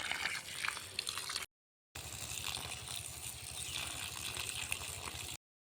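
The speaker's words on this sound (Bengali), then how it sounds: "তো পাইপে করে জল চলে আসছে।" Water flowing from a pipe into the furrows of a field being prepared for planting potatoes, a steady faint gushing and trickling that continues through the clip, broken once by a short silent gap.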